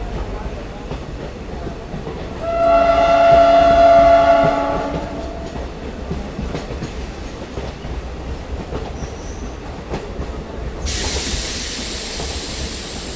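The new Dandeli–Alnavar passenger train rolls along with steady wheel clatter. A long, loud horn blast sounds early on, then fades back to rhythmic track noise, and a brighter rushing hiss rises near the end.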